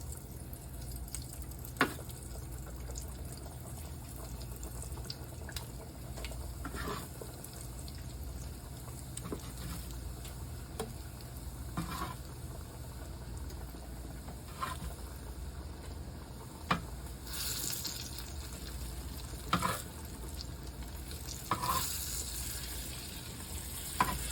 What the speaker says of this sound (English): I'm gonna add a couple to my hot oil here